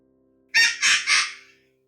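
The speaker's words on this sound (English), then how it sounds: "The parrot perched happily on Steve's shoulder, flapped its wings, and squawked" A parrot squawking as a sound effect in a Minecraft pirate bedtime story, three harsh, bright squawks in a quick burst, close and loud against silence, with no speech.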